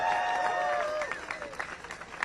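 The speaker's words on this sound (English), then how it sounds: "let's have another round of applause for Jacob Miller" Clapping and a cheer from a crowd at a Harvard student rally, fairly faint and outdoors, fading within a second into scattered claps.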